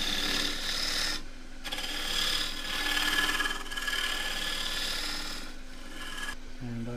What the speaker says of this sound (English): I'm going to do that with the right wing of this half inch bowl gouge, deep fluted bowl gouge